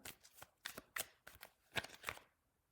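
Tarot cards are shuffled and drawn in several quick, crisp bursts of riffling and snapping card stock. The sound is close and fairly quiet, with short pauses between bursts and no talking.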